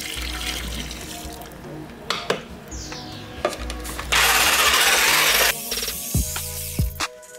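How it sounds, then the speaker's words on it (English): Twelve ounces of water pours in a steady splashing stream for a second or so into a 3-pound cement mix, surrounded by scraping, clattering mixing noises nearby. "I'm gonna add 12 ounces of water."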